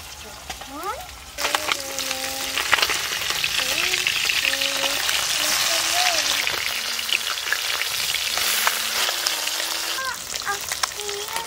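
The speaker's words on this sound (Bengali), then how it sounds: "মাছগুলো খুব ভালো করে ভাজা হয়ে গেছে, এবার তুলে নিই।" Small fish frying in a pan for a fish curry with green peas, a loud, dense, continuous crackling sizzle with voices faintly audible in the background.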